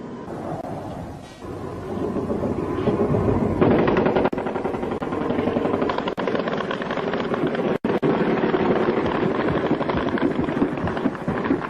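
Rapid, dense gunfire from anti-aircraft guns fires at Skyhawk jets over San Carlos Bay, a continuous loud rattle of bursts layered over a deep roaring rumble, with a few sharp cracks standing out.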